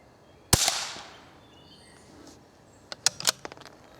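A single sharp crack from a rifle firing a CCI Quiet-.22 segmented hollow point round outdoors, followed by a brief decaying tail and a few faint clicks and knocks afterward.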